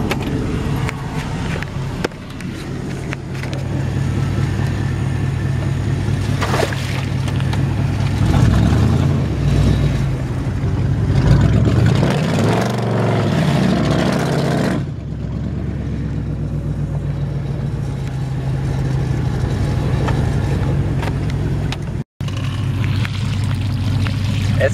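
A stuck pickup truck's engine idles in neutral on slick, icy ground, a steady low rumble running throughout, fairly loud and close, with brief faint voices under it.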